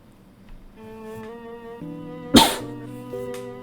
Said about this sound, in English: Sorry if you guys kind of popped your eardrums from this, or if I popped your eardrums from that cough